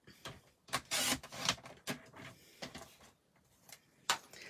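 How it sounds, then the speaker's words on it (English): A paper trimmer squares off a cut piece of craft paper in a series of short, close, uneven swishing and scraping strokes with brief pauses between them. "I'm going to square this off with my trimmer to save time."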